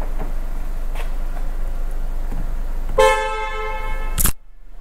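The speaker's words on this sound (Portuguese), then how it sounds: "o toque da buzina do Polo" A Volkswagen Polo Highline's horn blasts once, loud and close, over a steady engine hum, ending abruptly with a short clunk before near silence.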